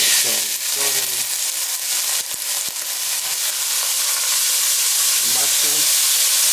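Mushrooms sizzle and fry in hot oil as chili pepper sauce is cooked, a loud continuous close hiss with occasional crackles, with a voice speaking faintly underneath at moments.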